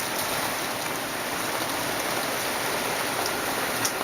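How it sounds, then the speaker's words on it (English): Hard rain from Hurricane Isaac in southern Alabama pours down as a steady, dense hiss, loud and unbroken from start to finish, with no voices. "it's raining a little hard out there."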